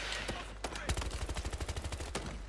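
Automatic gunfire in the shooter game Battlefield Hardline, a few sharp single cracks followed by a rapid rhythmic burst of shots, fairly faint overall.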